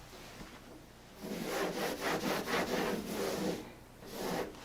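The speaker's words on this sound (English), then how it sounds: "Just a little bit of baking soda on a damp sponge." A damp sponge dusted with baking soda scrubs a scuff mark on a painted wall, making steady rhythmic rubbing strokes, close and moderately loud, with no talking.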